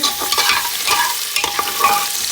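Chopped onion and garam masala hit hot oil in a pan and are stirred, a loud continuous sizzle broken by repeated scraping strokes of a spoon, close up and with no voices.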